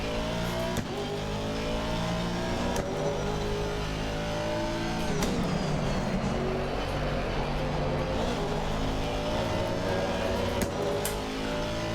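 An Aston Martin race car powers through a lap at Kyalami, its engine revving and climbing through rising pitch sweeps with quick breaks at gear changes, loud and continuous from close up.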